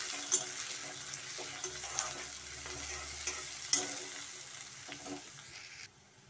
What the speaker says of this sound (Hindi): प्याज डाल देंगे, प्याज को हम गोल्डन भून लेंगे।